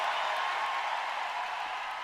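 Recorded audience clapping from a played-back performance video, a steady dense wash of many hands that fills the whole stretch evenly at moderate loudness, with no voices over it.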